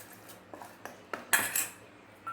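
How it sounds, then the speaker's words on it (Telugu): A spoon stirs a loose mixture with milk in a vessel, giving a few soft clinks and one brighter scrape, close and quiet, with no voices. "దీన్ని బాగా తిప్పుతూ కలుపుకోవాలి"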